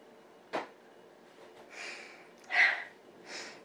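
A few short, breathy sniffs close up, spaced irregularly with quiet pauses between, alone without talk.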